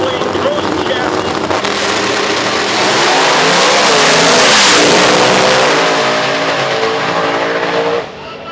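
A drag racing car, a 1941 Willys, blasts down the quarter mile with a loud, sustained engine roar that swells to a peak and then tapers as it pulls away, with an announcer talking over it.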